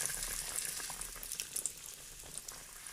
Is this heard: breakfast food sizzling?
yes